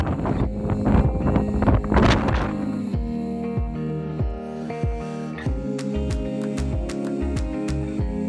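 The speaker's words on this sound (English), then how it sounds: "it's extremely windy." Strong wind gusts at a volcano summit on Jeju Island buffet the microphone in loud bursts for about three seconds, then give way to steady musical tones.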